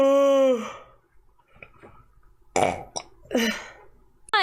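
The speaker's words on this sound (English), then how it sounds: "My burps. Gamer girl burps." A girl lets out several burps, a long voiced one at the start followed by shorter throaty bursts and a final croak, close and fairly loud with no talking.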